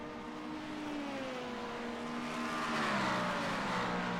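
Race cars in a racing video game, a Cadillac and an LMP2 prototype among them, engines screaming at high revs with a shifting pitch as the car pulls onto a straight, loud and continuous with no talk.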